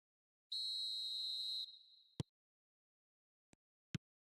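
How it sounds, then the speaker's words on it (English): A referee's whistle in the eFootball video game signals kickoff with one long, steady blast. A few sharp clicks follow in near silence, with no voices. "There's the whistle, and here we go."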